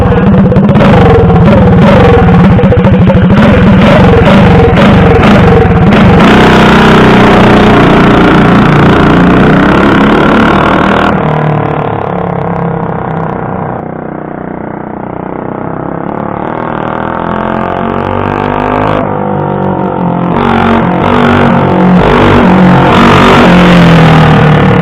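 A motorcycle whose torque converter has been modified to a jackshaft, built as a 10-second bike, makes a quick run. The loud engine revs up with rising pitch, eases off midway, then revs hard again.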